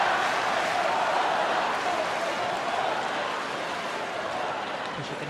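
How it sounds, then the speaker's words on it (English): Crowd noise at the Wimbledon men's final between Djokovic and Alcaraz on a tennis court, a broad, sustained roar of cheering and applause from a large audience that stays fairly even and slowly eases off. "As you can hear, crowd very much behind Federer"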